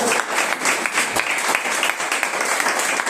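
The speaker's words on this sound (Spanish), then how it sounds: "Denle un aplauso a Cristo en este día" Congregation in a church giving steady, sustained applause, dense overlapping clapping throughout with a few sharper claps standing out and faint voices underneath.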